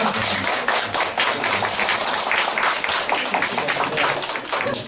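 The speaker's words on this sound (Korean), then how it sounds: "우리 권사님들 박수 한번 하겠습니다" A church congregation claps together, steady and dense for several seconds, the sound filling the room evenly.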